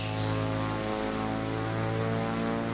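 A Corvalis TT propeller aircraft landing in extreme weather at Nanwalek in the MSFS 2024 game, a steady, even engine drone with a low hum and faint hiss, unbroken and alone.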